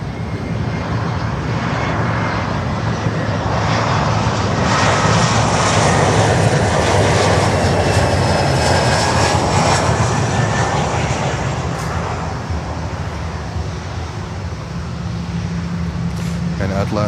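An American Eagle Embraer 175 jet airliner at Miami airport produces a loud, sustained engine roar that holds steady throughout, with faint broadband traffic-like background noise.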